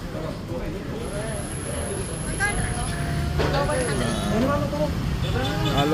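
Highway traffic rolls past a roadside cafe, a steady roadway rumble with heavy vehicles, a bus or truck whining as it passes, while people talk nearby.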